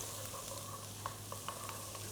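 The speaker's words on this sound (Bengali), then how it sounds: "সো আমরা এখন আমাদের এই অয়েলের ভিতরে দিয়ে দিব হচ্ছে চপড গার্লিক" A tablespoon of chopped garlic frying in oil and stirred with a wooden spoon for fried rice: a faint, low sizzle with a few light clicks and scrapes.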